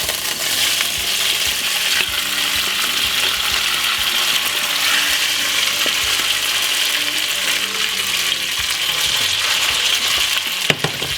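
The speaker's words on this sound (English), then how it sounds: "I'm going to fry up the vegetable now to make a nice, lovely sauce for the chicken." Vegetables for a Jamaican brown stew chicken sauce fry in a hot pan with a steady, dense sizzle, with occasional scrapes and clinks of a utensil stirring, close and continuous with no talking.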